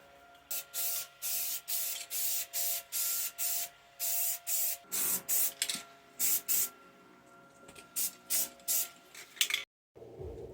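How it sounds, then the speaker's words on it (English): Primer spray-painted onto a Square Body C10 truck vent window, a run of short, loud hissing aerosol bursts in quick rhythm, close up, ending with a pause and a faint click. "So we're going to prime it and paint it."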